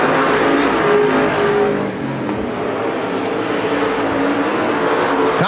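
Race cars roar as they accelerate on the green flag at Bakersfield Speedway, a loud, dense layered engine blare with a brief dip before the revving swells again.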